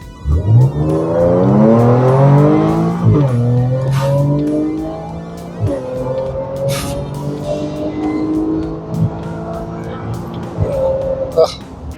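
An Audi S4 being driven accelerates hard, its engine revving up through rising pitch, dropping at shifts and climbing again, loud and close inside the car while a person talks over it.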